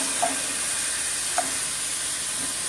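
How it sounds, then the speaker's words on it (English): Ground beef and sage sausage sizzle steadily in a pan while a masher breaks the meat apart, a constant frying hiss with a couple of soft taps from the tool. "So now I'll just go ahead and break that down using my masher."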